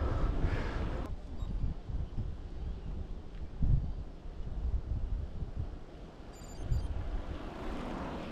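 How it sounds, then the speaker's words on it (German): Steady wind rushes past the microphone on a tandem bicycle ride at moderate level, swelling in a few low gusts, with no one speaking. "Kann man mal sehen, was hier für ein Wind weht."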